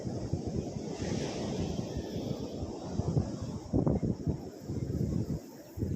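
Wind and surf roll steadily across an open beach, a constant broadband rush with a few louder gusts buffeting the microphone, no voices.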